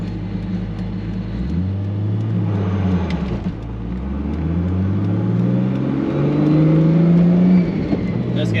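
Toyota Supra engine fitted with Bosch Motorsport 2000cc injectors, revving up under boost through rising gear pulls, loud and close, with a brief dip before climbing again and faint talk in the background.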